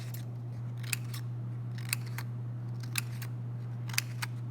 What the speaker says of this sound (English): Now I'm going to cut fringe into that tab.